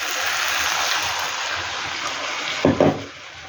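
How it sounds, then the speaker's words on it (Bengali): Water streams steadily into a mixer jar for rinsing, a continuous close gush that ends with a couple of louder sloshes as the flow stops. "এবার আমি মিক্সারের বাটি ধুয়ে জল একটু দিয়ে দেবো"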